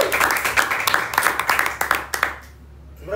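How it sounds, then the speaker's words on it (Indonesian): Small studio audience clapping for guest Jack Venture on a podcast set, a brief burst of quick uneven claps that fades into near silence, close and fairly loud. "Tepuk tangan dulu buat Jack."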